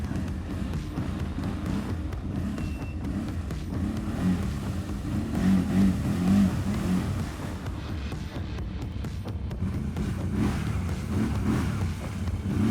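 A Loncin Xwolf 1000 ATV on 30-inch tires revs hard while backing out of a muddy rut, its loud, close engine drone swelling and holding continuously throughout.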